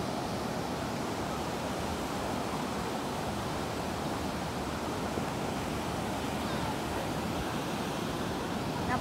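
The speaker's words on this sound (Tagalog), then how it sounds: "Malalaki kasi ang alon." Ocean waves roll continuously onto a surfing beach in Phuket, a broad, steady wash of surf and wind noise with no pauses, fairly loud and close.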